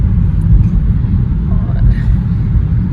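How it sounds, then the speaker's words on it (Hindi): From inside a car crawling through heavy London traffic, a dense, steady low rumble of engines and road noise hums throughout while a person speaks briefly over it. "भाई बहुत ज़्यादा ट्रैफिक है"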